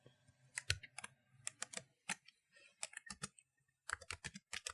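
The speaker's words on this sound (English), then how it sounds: "And this time let's try using the keyboard shortcut." Someone types a shortcut on a computer keyboard in short bursts of crisp clicks with brief pauses between groups, close and clear in an otherwise quiet room.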